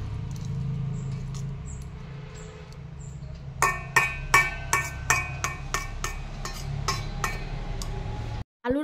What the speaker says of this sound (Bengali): আলুর যে ব্যাটারটা তৈরি করে রেখেছিলাম তার সঙ্গে সাবুটা মিশিয়ে নিব।